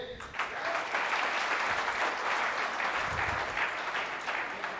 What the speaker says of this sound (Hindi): जोरदार हाथ ताली हो जाए।